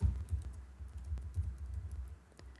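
Rapid typing on a computer keyboard while writing Angular code, a steady patter of close, soft key clicks with a few sharper taps, alone without talk.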